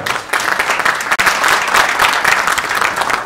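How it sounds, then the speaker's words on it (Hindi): Audience applause welcoming RJ Amar of Big FM at a national award event for a Punjabi novel, a dense, loud, steady wash of many hands clapping with a brief dip near the middle. "जोरदार तालियां नाल उन्हां दा वेलकम किया जाए"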